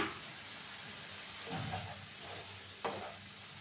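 Chopped tomato goes into a pan of frying fish roe curry, sending up a soft, steady sizzle with a couple of brief stirring scrapes and bursts of hiss partway through.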